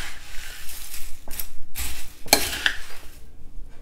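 Metal utensils clatter and scrape in a bowl while bhel puri is tossed together with green coriander, a series of close, irregular clinks and stirring scrapes.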